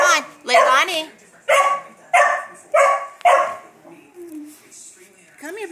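A golden retriever barks in several loud, close, sharp bursts spaced through the clip, with a few softer whimpering yelps between them.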